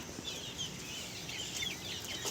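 Native desi chickens, naked-neck among them, cluck on a farm with soft scattered calls rising above a quiet, steady background.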